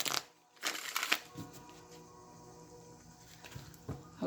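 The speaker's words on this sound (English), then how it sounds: "Let me just shuffle a few times here." Tarot cards being shuffled by hand in a few short riffling bursts, close and quiet, with pauses of soft rustling between them.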